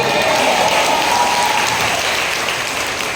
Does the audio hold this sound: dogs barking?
no